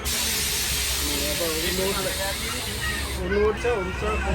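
A local train rolls past on the adjacent track, a steady loud hiss and rumble of wheels and air filling the scene from start to finish, with faint voices mixed underneath.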